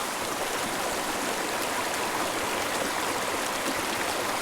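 A tiny remote mountain creek flows steadily in a close, continuous rushing babble of water with no breaks, and no voices are heard.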